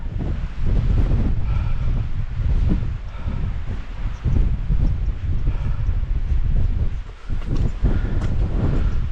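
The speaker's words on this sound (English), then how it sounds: "It's so windy!" Strong storm wind on an upland ridge along the Pennine Way buffets the microphone in heavy, roaring gusts that rise and fall continuously.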